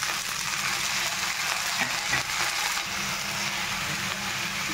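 Cauliflower and its leaves sizzling in a pan with fried potatoes and onions, a steady crackling fry with a few soft stirring knocks, close and continuous with no talk.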